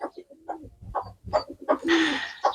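Pigeons coo in soft, throaty bursts close by at a pigeon loft, overlapping one another, with a brief rustle or splash from their water bath partway through.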